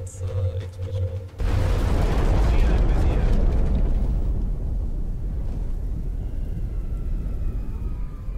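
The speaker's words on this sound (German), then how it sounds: "Panzer-Explosion." A tank blows up in the video game XCOM: Enemy Unknown. A sudden loud blast is followed by a long, rumbling roar that slowly fades.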